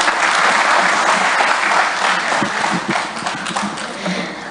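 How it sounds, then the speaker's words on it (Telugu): An audience at a TDP Mahanaadu event in Dallas applauds Raghavendra Prasad with a continuous, dense round of clapping that holds steady, then thins slightly toward the end. "ప్లీజ్ గివ్ రాఘవేంద్ర ప్రసాద్ గారు big round of applause once again my friends"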